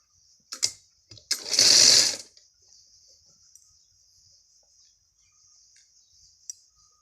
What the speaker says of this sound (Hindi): अब साइड की सिलाई लगाऊंगी।